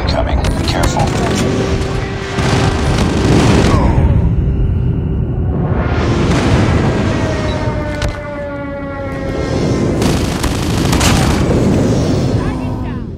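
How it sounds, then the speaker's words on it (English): Airstrike explosions in the Call of Duty video game boom in repeated heavy, rumbling bursts over a rising and falling siren wail, loud and dense throughout, with game voices mixed in. "Enemy airstrike incoming."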